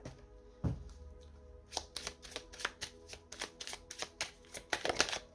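Tarot cards being shuffled and drawn, a soft low thump followed by a rapid run of crisp, riffling card snaps that come close and clear with no talking.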